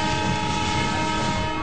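A train at a Mumbai railway station rumbles steadily and loudly with a broad, continuous roar and sustained tonal hum, no pauses and no voices.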